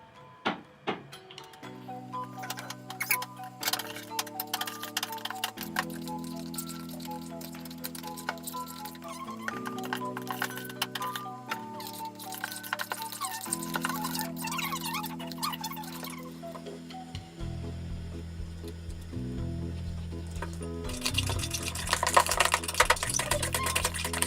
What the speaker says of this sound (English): Now we're going to start mixing.